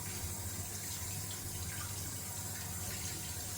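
Tap water runs steadily into a sink while lather is rinsed out of a shaving brush, a continuous even splashing stream with no talk.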